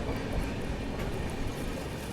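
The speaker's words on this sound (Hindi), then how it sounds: "अब क्रॉसिंग होगी बेंगलोर भुवनेश्वर दुरंतो एक्सप्रेस से" Bengaluru–Bhubaneswar Duronto Express rolling slowly past at a station, a steady low rumble of wheels and carriages heard from inside a train, continuous and fairly faint.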